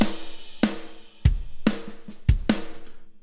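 A metal beat's first-verse drum pattern programmed in FL Studio plays alone, with sharp, loud hits spaced irregularly and punchy low kicks between decaying crashes.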